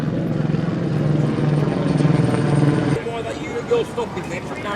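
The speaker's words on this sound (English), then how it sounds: "Helicopter in the sky." A helicopter passes overhead at an outdoor street protest, its low rotor thrum steady and fairly loud for about three seconds before dropping away, with crowd noise and scattered voices underneath.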